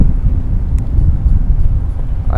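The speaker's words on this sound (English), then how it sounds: "The wind's blowing about 30, 40 miles an hour." Strong wind of about 30 to 40 miles an hour buffets the microphone in a constant low, rumbling roar, with no talking.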